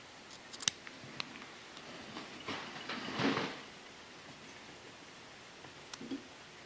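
Scissors snip rubber legs on a stonefly fly pattern, a few soft close cuts with a brief cluster of quick snips, light rustling between them, no talking.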